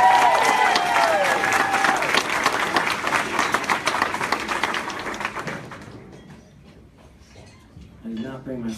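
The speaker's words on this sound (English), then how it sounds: "give everyone to give a round of applause for the band." A concert crowd applauds and cheers for the band, loud and dense at first, then fading into scattered claps, with a voice speaking at the end.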